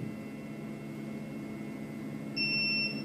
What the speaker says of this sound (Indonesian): Jadi saat hampir menyentuh perpindahan, buzzernya juga bunyi ya.